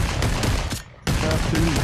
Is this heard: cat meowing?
no